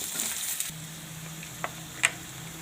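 Potatoes being mixed into a frying pan of chana dal shaak, a soft steady sizzle with a couple of brief stirring clinks and scrapes; no talking.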